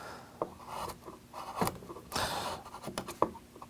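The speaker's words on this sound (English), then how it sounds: "I'm just making very, very thin cuts with this gouge." A hand gouge takes very thin cuts to smooth the background of a wood carving: soft, irregular scraping strokes with short rasping bursts, close and quiet, with no talking.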